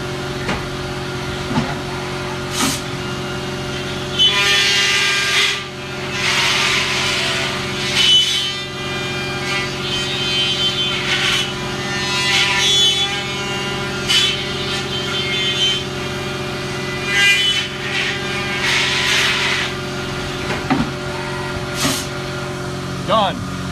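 A holster-making machine drills and trims a holster at full speed, giving a steady mechanical whir with bursts of louder high-pitched cutting noise over a constant motor hum.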